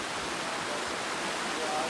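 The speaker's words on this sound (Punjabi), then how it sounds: "ਦੇਖ ਲਓ ਕਿੱਡੀ ਵੱਡੀ ਚੋਈ ਆ ਇਹ ਇੱਥੋਂ ਦੀ ਪਾਣੀ ਵੀ ਕਿੰਨੀ ਤੇਜ਼ ਆ" Fast-flowing water rushes out of Chohal dam after heavy rain, making a steady, loud, close roar of broadband noise that doesn't let up.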